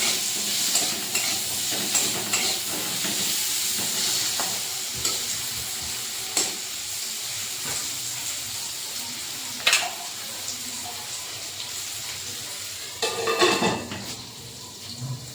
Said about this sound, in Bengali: আলুটাও লো ফ্লেমে ভেজে নিতে হবে।